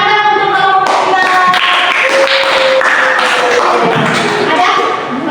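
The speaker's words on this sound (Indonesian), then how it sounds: "Bagus, tepuk tangan untuk kelompok" A class of students claps for a student group in a classroom, a close, loud burst of hand claps mixed with voices that carries on for several seconds before easing off at the end.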